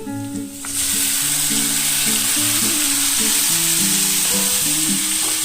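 Marinated jackfruit hits hot oil in a pan after fried potatoes, a loud steady sizzle starting abruptly and continuing, with a low musical tone running underneath.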